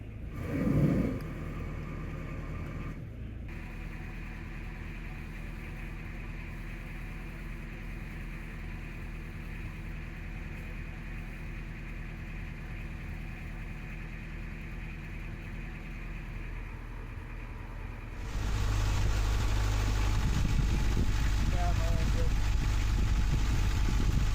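A steady low narrowboat engine drone runs throughout, idling smoothly, then grows louder and rougher near the end as it revs up.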